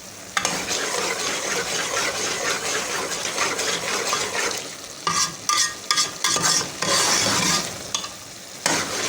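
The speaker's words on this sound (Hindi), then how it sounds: "इसको घी डाल के और भूनेंगे" Bottle gourd halwa frying in ghee in a pot, stirred with a spoon in repeated scraping strokes over a steady sizzle, close and loud, with no talk.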